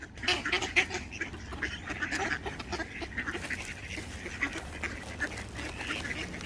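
A noisy flock of ducks and geese quacking and honking continuously, many overlapping calls close by with steady busy chatter throughout.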